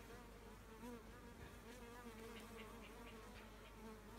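A dense, continuous buzzing of many bees close by, gathered to drink from a wet cloth, steady and unbroken, with no voices.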